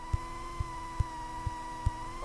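A light aircraft engine idles roughly at 500 rpm, giving slow, evenly spaced low thumps about twice a second over a steady droning hum.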